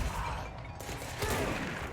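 Enemy gunfire in the game Control, a short dense burst of shots filling the whole moment, loud and close with a busy mechanical clatter.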